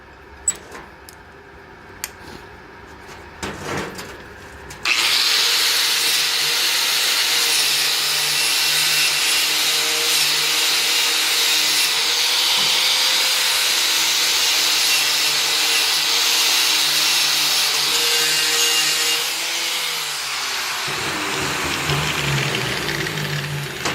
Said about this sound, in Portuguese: só vou limpar com a esmerilhadeira para vocês verem como ficou